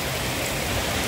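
Steady rain falls on a cold, wet day, making an unbroken, even hiss with no pauses and no voices.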